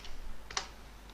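A few quick keystrokes on a computer keyboard while a domain name is entered into a Chrome browser, light and close, with a short burst of clicks midway and a single tap near the end.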